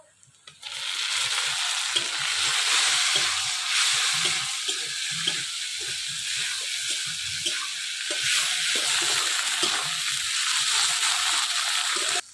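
Chopped tomatoes fry with browned onions and spices in a pan for a Bengali home-style dish, producing a loud, continuous sizzle with soft stirring and sloshing underneath.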